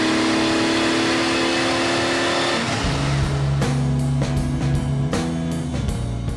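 A Lamborghini Miura's engine drones loudly, then drops in pitch and revs up again in several rising pulls, close and unbroken.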